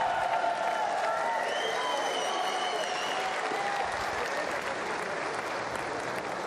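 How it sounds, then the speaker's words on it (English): A boxing arena crowd roars and applauds for Tyron Zeuge during his WBA title fight with Giovanni De Carolis, a dense, sustained wash of clapping and cheering with scattered shouts and whistles, loud throughout. "the crowd are happy for their man Tyron Zeuge"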